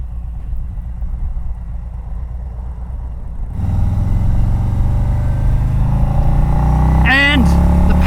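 A Harley-Davidson Road King Special with a 107 engine rumbles steadily down the road, its deep exhaust drone growing louder partway through and holding close and strong to the end.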